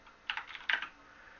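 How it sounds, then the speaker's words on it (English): A short burst of keystrokes on a computer keyboard while entering an ifconfig command in Kali Linux, two quick clusters of close, crisp clicks separated by a brief pause, with no talking. "which can be done by typing ifconfig, the interface, and then the new IP you want"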